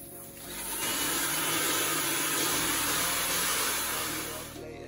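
A hair dryer blows steadily on freshly coloured ash-white highlighted hair under a foil cap, its broadband whoosh rising from a softer start to a loud, even roar and easing slightly at the end.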